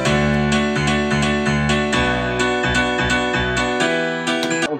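Second piano layer of a track plays a steady, rhythmic pattern of repeated chords, bright and dense with a driving pulse that continues throughout. Close and loud, with no talking.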